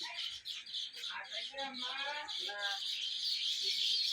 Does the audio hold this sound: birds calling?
yes